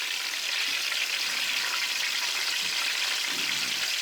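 Steady, close sizzling and crackling of vegetables frying in hot oil, continuous and fairly loud with no talking.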